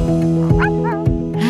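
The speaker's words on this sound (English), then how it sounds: "Hasbro's Joy for All companion pet pup and its lifelike coat, realistic sounds, bark back technology, and gentle heartbeat" A Hasbro Joy for All Companion Golden Pup, a robotic toy dog, barks and yips in a few short bursts over a steady musical backing.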